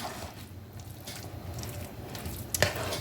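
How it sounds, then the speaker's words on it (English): Cornbread dressing is stirred in a pan, giving a soft, steady sizzle with moist squishing scrapes and a sharper clink near the end, with no talking. "So I'm just going to stir this a little."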